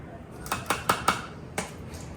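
A metal fork scrapes and taps against a container while yogurt is pushed in, making several quiet clinks in quick succession and then one more after a pause.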